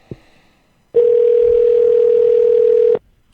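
A single steady electronic tone sounds for about two seconds, loud and unbroken, like a phone line ringing, after a brief click.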